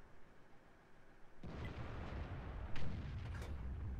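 An FV tank in World of Tanks fires high-explosive shells: a heavy, booming cannon blast strikes suddenly after a quiet start. It is followed by a rumbling tail and further sharp bangs and impacts a second or two later.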